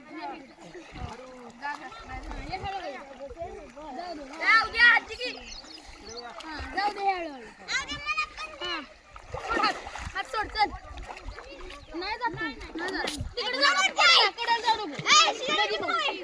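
Village kids swim and splash in canal water, with repeated splashes and bursts of churning water under constant excited children's shouting and chatter throughout, close by.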